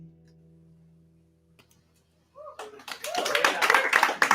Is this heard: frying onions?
no